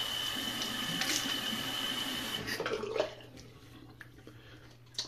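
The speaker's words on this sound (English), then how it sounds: "Wet my face." Water running and splashing at a sink while a face is wetted before shaving, a steady close stream that stops partway, followed by a few faint drips and a small splash.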